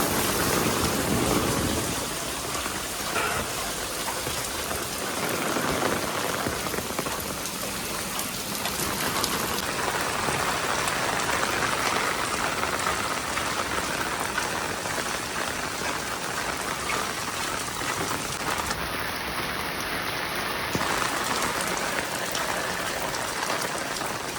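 Heavy rainfall hisses on and on at an even level throughout, a thick wash of drops striking nearby surfaces with no talk heard.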